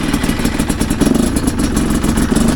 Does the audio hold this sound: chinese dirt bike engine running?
yes